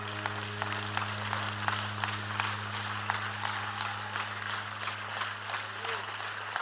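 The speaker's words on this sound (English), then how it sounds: "Would you clap your hands now and thank God for what He is about to do?" A church congregation claps together in steady, dense applause during a worship service, with a low steady hum underneath and scattered individual claps standing out.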